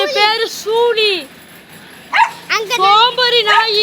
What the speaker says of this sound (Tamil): இதுதான் நாங்கள் வளர்க்குற நாய்.